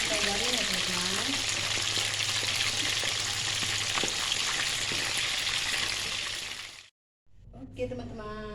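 Mackerel (ikan kembung) frying in hot oil until crispy, a dense, steady close-up sizzle that cuts off briefly and resumes, with a voice talking over it.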